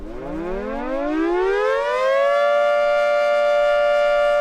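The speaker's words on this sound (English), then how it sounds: "The sirens blare at about 130 decibels" A half-century-old civil defense siren winds up from a low growl to a loud, sustained wail, rising steadily for about two seconds before holding one piercing pitch.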